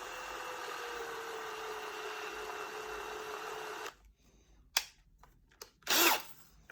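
A power drill turns slowly, threading a spaghetti line fitting into plastic pipe. It gives a steady, even whine for about four seconds, then cuts off, followed by a few sharp clunks and handling noises.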